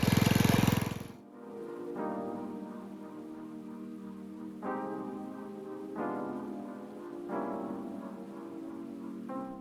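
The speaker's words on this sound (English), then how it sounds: "So we rototilled, picked out the rocks, rototilled again, and picked out the rocks again." A rototiller churns through rocky soil with a steady, rough mechanical rumble that surges periodically as it bites, after a brief burst of louder noise at the start.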